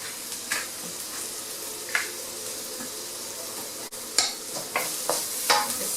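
Rice frying in a pan and being scooped, with a continuous hissing sizzle broken by occasional scraping strokes, close and steady with no voices.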